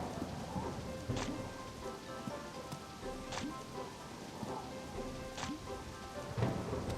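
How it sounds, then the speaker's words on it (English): Steady thunderstorm rain in the video game Harvest Moon: Animal Parade, a continuous hiss broken by several sharp, evenly spaced crackles or claps, with no talk over it. "This is like the third thunderstorm in a row."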